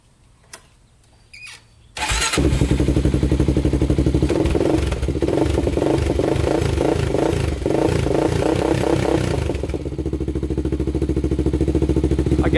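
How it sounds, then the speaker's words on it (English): A Honda 400ex quad's engine cranks after a couple of faint clicks, catches and settles into a loud, steady idle, with lumpy rhythmic firing throughout and no talking. "let's start it up and then let it run just for a couple minutes"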